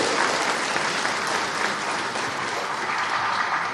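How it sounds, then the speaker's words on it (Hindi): Audience applause in a hall during a state employment day event, dense, loud and continuous clapping from a large crowd throughout. "ताली बजा के आप स्वागत करें"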